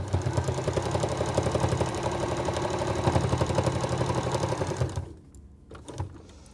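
A sewing machine runs fast and steadily, stitching fabric for mini oven mitts, with a loud rapid mechanical chatter that stops abruptly near the end, leaving a few quiet knocks.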